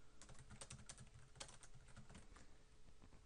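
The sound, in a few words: typing on computer keyboard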